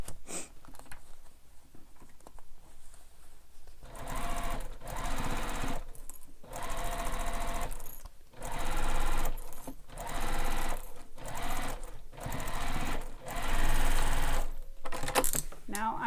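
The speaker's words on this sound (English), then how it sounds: "Then I'm going to stitch this together using the seam allowance given in the pattern." A sewing machine stitches a seam on a handheld bag in repeated bursts of running, with short pauses between them. It sounds close and steady, with soft handling noises in the gaps.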